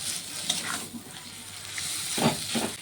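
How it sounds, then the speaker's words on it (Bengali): Ground paste sizzles and fries in oil left over from frying shrimp, a steady close crackle with stirring scrapes and a couple of louder bursts near the end, no voices. "যে তেলে চিংড়ি মাছটি ভেজেছিলাম সেই তেলের মধ্যে এই বাটাগুলো দিয়ে দেব।"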